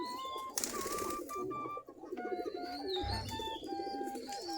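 Native Giribaz pigeons coo softly and repeatedly near their coop, with overlapping low calls, some higher chirps from the young birds, and a brief burst of wing flutter.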